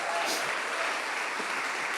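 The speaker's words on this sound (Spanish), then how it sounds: "¿Qué tal si le damos un fuerte aplauso a cada uno de esos colaboradores?" Church audience applauding volunteers who cleaned and painted the building, a steady dense wash of clapping that runs evenly through the whole stretch with no voices on top.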